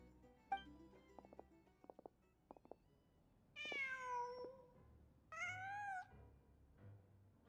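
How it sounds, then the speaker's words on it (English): A cat in Genshin Impact meows twice, each cry long and clear, following a few soft clicks and taps over a quiet background. "Just a cat."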